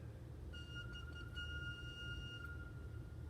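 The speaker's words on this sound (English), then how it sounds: "It's a very soft little flute made out of metal." Small, soft metal flute pipe of a pipe organ holds a gentle, pure sustained note for about two seconds, faint beneath a broad steady background rumble and hiss.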